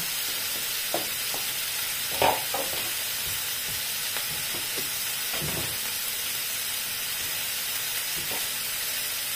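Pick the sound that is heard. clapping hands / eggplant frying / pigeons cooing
eggplant frying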